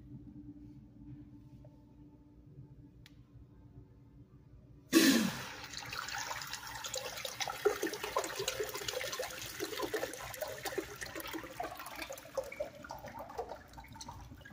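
A clogged toilet with late-2000s American Standard fixtures in an older Walmart restroom is flushed: a sudden loud whoosh after quiet, then a sustained rushing, gurgling water flow that trickles and rumbles for several seconds.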